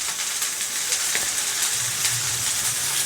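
Soybean and potato curry stir-fried in a pan, giving a steady, close sizzle and crackle that runs throughout with no talking over it.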